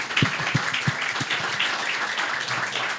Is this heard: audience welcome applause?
yes